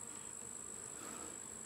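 Honey bees buzz in a continuous faint drone around an opened hive in a field, a soft steady hum with no voices.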